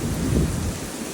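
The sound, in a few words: thunderstorm with rain and strong wind gusts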